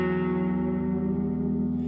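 A single electric guitar note bends from a second up into a third, soaked in reverb and echo, ringing out smooth and sustained for about two seconds with no other sound.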